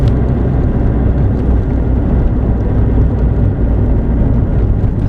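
Loud, steady engine drone and road rumble from inside a 1979 VW Rabbit cruising in fourth gear, an even low hum with wind noise and no talking.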